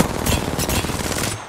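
Rapid automatic gunfire in the battle-royale shooter Apex Legends, a dense burst of close, loud shots in quick rhythm lasting the full moment, with no talk over it.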